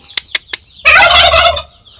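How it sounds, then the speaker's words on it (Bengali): Turkeys at a farm give a few short chirps, then one loud, close, rattling gobble lasting nearly a second, followed by quiet. "আর এখানে সব টার্কিশ মুরগি, ওই আল্লাহ টার্কিশ মুরগি এখানে এগুলা।"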